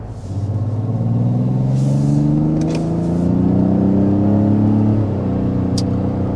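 A 2026 Mazda CX-90 accelerating on the road, a close engine drone rising steadily in pitch as it gains speed, with tire and road rumble underneath and a brief shift in tone near the end.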